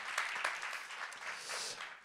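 A small audience applauds Doctor Vekman at an evening talk, a soft, even patter of clapping heard at a distance, faint but continuous throughout.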